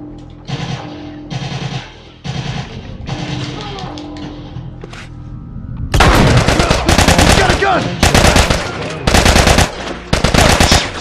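Enemy machine gun fire in The Last of Us, loud sustained automatic bursts, moderate early on and then heavier, closer volleys broken by brief pauses, with a player talking over the gunfire.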